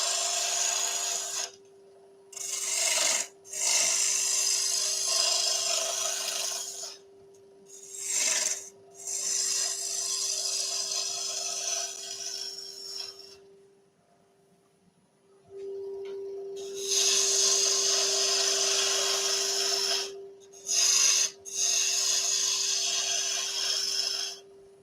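A wood lathe turning a small hummingbird head, a tool cutting the spinning wood in rough, scraping bursts of several seconds each over a steady motor hum, with a quieter pause midway and no talk.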